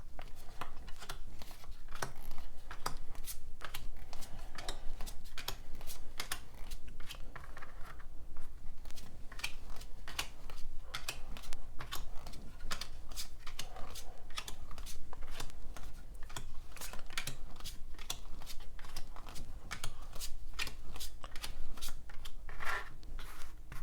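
Tarot cards being handled and shuffled overhand, a rapid series of soft papery slaps and flicks in quick irregular rhythm, close and quiet, continuing steadily without talk.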